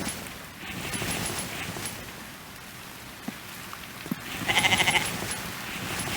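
A goat bleats repeatedly in the survival video game The Infected, loud nearby calls over a steady rain-like background hiss, with a cluster of chirping tones partway through.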